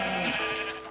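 Sheep bleating in Minecraft on Xbox 360, a steady sustained bleat filling the full second at close, moderate loudness with a faint hum beneath.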